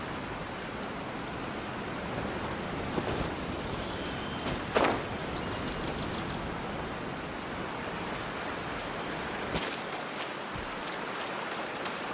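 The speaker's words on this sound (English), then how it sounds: "She just walked near that small waterfall" A small waterfall in the video game Genshin Impact gives a steady, even rush of falling water. A few faint clicks and taps sound over the wash, with no talking.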